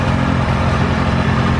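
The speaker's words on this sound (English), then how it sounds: "a gas powered car, so she's a little nervous because it makes some engine noise." A gas-powered golf cart engine runs with a steady, close, buzzing mid-pitched hum and no talk.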